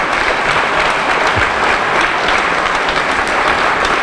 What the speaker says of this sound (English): Let's give all of ourselves a round of applause.